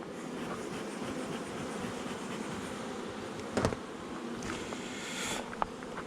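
A steady, low buzzing of many honeybees at a hive fills the air, close and continuous, with a couple of brief knocks and a rising hum near the end.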